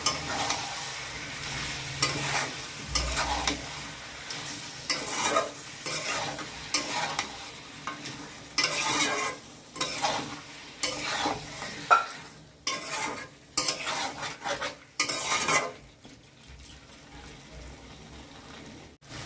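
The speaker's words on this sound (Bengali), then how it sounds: "এগুলোকে ভালো করে মিশিয়ে পাঁচ মিনিট কষিয়ে নেব" Country chicken curry with ginger, onion and garlic paste being stirred and fried in a pan, repeated close scraping and stirring strokes over a steady sizzle, loud bursts alternating with quieter gaps.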